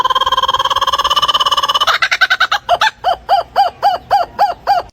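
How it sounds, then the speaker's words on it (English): A blue-winged kookaburra calls loudly and close, starting with a rapid buzzy trill that breaks into a series of about eight evenly spaced, harsh cackling hoots. "Blue-winged kookaburra."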